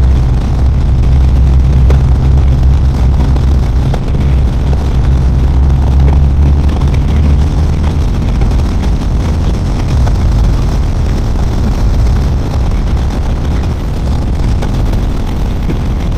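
A BMW R 1250 RS motorcycle engine underway at road speed, a steady low drone buried in loud, constant wind rush, with the deeper engine note more prominent in the first half.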